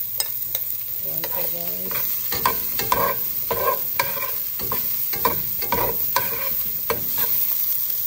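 Garlic sautéing in a pan while a utensil stirs it, a steady sizzle broken by repeated clacks and scrapes of the spoon against the pan, with a brief spoken phrase over it.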